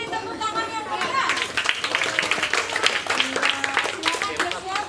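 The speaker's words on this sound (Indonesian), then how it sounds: "Ayo beri tepuk tangan yang meriah." Applause with scattered clapping from a group at an Indonesian reading-ambassador library visit in Papua, steady and moderate, with voices chattering underneath.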